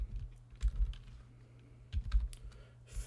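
Typing on a computer keyboard while entering an Excel formula, with quick soft key clicks at close range in irregular bursts over a low steady hum, with no talking.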